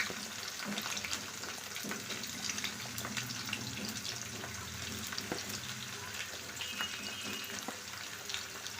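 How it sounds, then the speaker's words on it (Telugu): Onions sizzle and fry steadily in hot oil for a Sunday chicken curry, a continuous close crackle with occasional stirring scrapes. "ఆయిల్ కొంచెం వేడేసిన తర్వాత ఆనియన్స్ వేసుకున్నాను"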